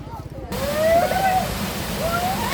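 A waterfall at rice terraces pours over rocks in a steady, broad rush of water that swells after a brief quieter start, with a voice speaking over it.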